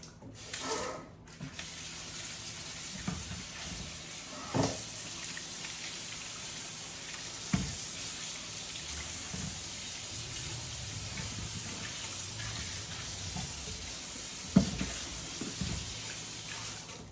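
Sweet potatoes being rinsed under a running kitchen tap, a steady soft stream of water with a few light knocks and splashes throughout, with no one talking.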